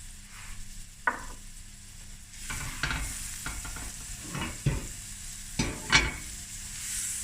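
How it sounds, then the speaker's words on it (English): Onions and garlic sautéing gently over moderately low heat, with a soft steady sizzle broken by several stirring scrapes and clicks of a utensil against the pan, close and clear with no talking. "Let the onions cook through and your garlic."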